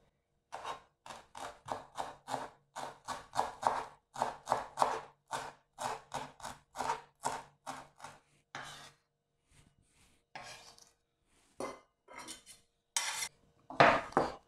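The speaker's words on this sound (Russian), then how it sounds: "Две веточки укропа нарежу мелко." A knife chops two sprigs of dill finely on a board in rapid, even, close taps, then stops before a few scattered scrapes and knocks follow.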